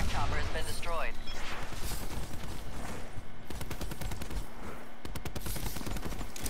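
Rapid automatic gunfire from a light gun with no red dot in Black Ops 4, loud bursts of fast repeated shots mixed with other game sounds.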